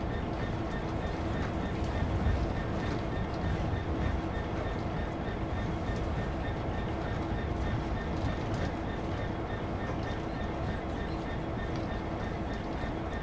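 A Class 66 diesel locomotive in the Train Sim World 3 game rumbles steadily with a continuous low engine drone and running noise, and someone talks over it.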